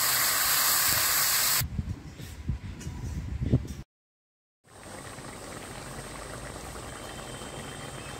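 Water poured into a hot pan of prawn curry, a loud steady sizzling hiss that breaks into bubbling and spatters, briefly cuts out, then returns as an even boiling hiss.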